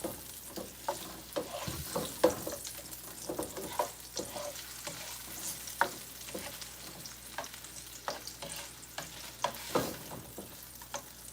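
Shrimp boil ingredients sizzle steadily in a pot while a utensil stirs them, with frequent scraping knocks and clatters over a constant hiss of frying, close up and fairly quiet.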